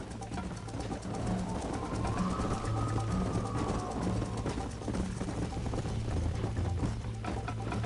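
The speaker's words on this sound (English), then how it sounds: "You're gonna wear that horse out." A galloping horse in Red Dead Redemption drums out quick, continuous hoofbeats under a dense wash of wind and movement noise, steady and fairly loud throughout with no talking.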